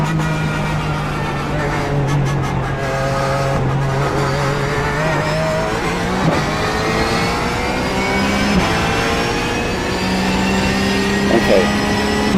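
Porsche 911 GT3 Cup racing engine in the iRacing sim on the Nürburgring, held at full throttle with a steady high whine that climbs through the gears, loud and continuous, with brief shift dips.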